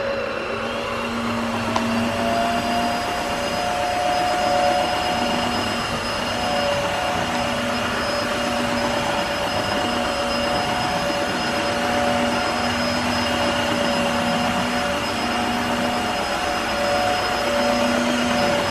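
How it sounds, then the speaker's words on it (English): A Tineco wet vacuum cleaner runs steadily on wet floors, a loud continuous motor whine with a high tonal hum and sustained airflow, with no talk over it. "let's try some vacuuming with this"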